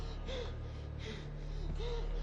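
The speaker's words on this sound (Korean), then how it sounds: "내가 걸어갖고 힘들어서 숨 쉬는 소리였구나" Heavy, rhythmic breathing of a character walking in the horror video game Neverending Nightmares, with repeated gasping inhales and exhales at a steady pace over a low constant hum.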